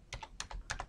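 Computer keyboard keys typed in a short burst of about six quick clicks, close and clear with no talking.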